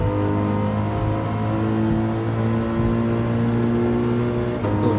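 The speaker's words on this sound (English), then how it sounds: "The BRZ is known for having terrible acceleration, but on the straight that thing just pulls and pulls and never stops." Subaru BRZ in the racing game Gran Turismo 7, accelerating steadily along a straight with a loud engine drone that climbs in pitch, then a brief shift near the end.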